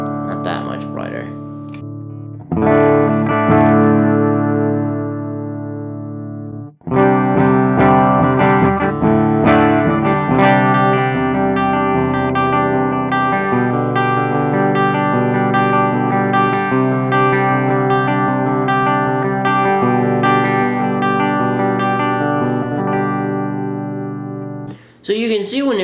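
Electric guitar through the FET preamp drive of a Fractal Audio Axe Fx III, played as sustained chords and a melodic line with a mild crunch. Tone sounds slightly dull, and playing continues with brief pauses.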